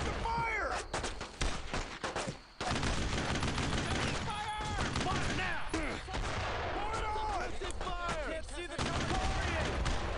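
Heavy World War II gunfire in Brothers in Arms: Road to Hill 30, with dense overlapping rifle and machine gun bursts cracking continuously amid battlefield noise, briefly dipping before resuming.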